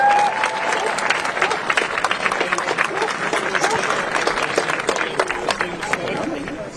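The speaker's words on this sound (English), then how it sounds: "Could you just give a round of applause again one more time for Susan, please?" A crowd at an anti-racism rally in Belfast applauds in a dense, sustained wash of clapping that stays loud for several seconds, with some chatter mixed underneath before it tapers slightly at the end.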